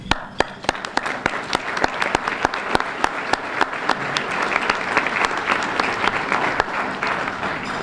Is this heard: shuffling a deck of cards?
no